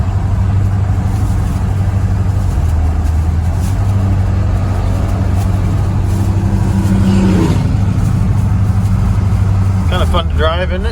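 An old car called Big Blue drives along with a steady engine hum and road rumble that swells briefly as it accelerates, close and continuous from the cabin, with people talking over it.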